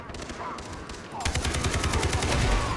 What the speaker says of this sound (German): Oh, wer schießt da?